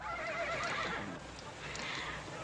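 A horse whinnies amid a busy outdoor scene in an Old West setting, the neigh rising over a steady wash of ambient noise with faint hoof and background sounds, no clear talk.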